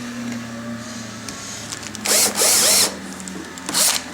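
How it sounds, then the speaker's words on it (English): A power drill spinning a brass fitting on leather to punch holes whines in short loud bursts, spinning up twice in quick succession, then a brief third burst, close by over a low background hum. "I'm going to spin it with this drill on that leather to punch out holes"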